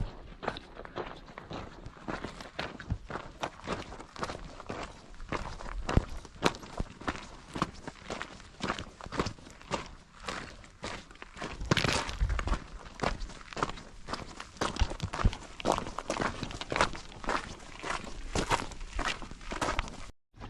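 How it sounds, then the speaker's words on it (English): Footsteps crunch steadily on a crisp salt crust in Al Wahbah Crater, a dense run of close, gritty crackling steps with brief faint voices beneath. "It's like walking on snow or something. Very crisp underfoot. You can probably hear it. Salty."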